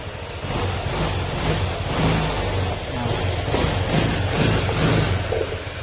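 A Honda Click 125/150 motor scooter engine idles close by with a steady, rattly vibration, holding a constant loud drone throughout.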